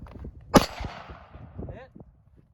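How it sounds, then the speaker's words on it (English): A single sharp gunshot from a Cetme Model L rifle chambered in 5.56 NATO rings out near the start, followed by a decaying echo, with quieter background noises around it. "Okay, let's do some shooting."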